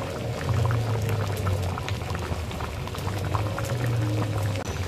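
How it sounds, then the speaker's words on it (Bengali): Sour jujube pickle with jaggery simmering in a pot, a steady close bubbling and popping that runs through the whole stretch at an even, moderate level with no voices. "এবার এটা অনেকক্ষণ ধরে ফুটাইতে হবে"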